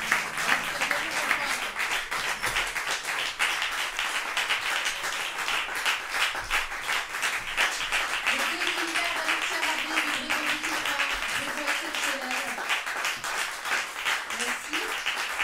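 An audience applauds after an intimate concert, dense steady clapping close by with a voice speaking over part of it.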